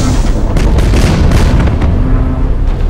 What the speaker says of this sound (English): Enemy transport ship destroyed.